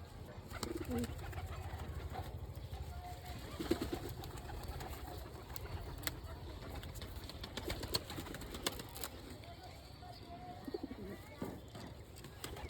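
A female pigeon being handled coos softly and intermittently, quiet and close, amid light rustling and handling noises.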